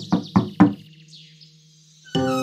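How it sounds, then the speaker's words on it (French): Three firm knocks on a wooden cottage door, close and evenly spaced, followed by a short quiet stretch with a faint whistle-like tone and then a sudden swell of bright music. "Boucle d'Or arriva en courant devant la maisonnette et frappa à la porte."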